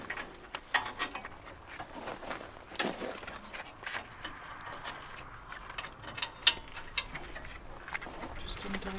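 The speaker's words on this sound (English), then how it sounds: "Just undoing some locking pins." Locking pins are worked loose on a machine on a Portuguese homestead, a run of small metallic clicks, rattles and taps at close range, fairly faint and irregular.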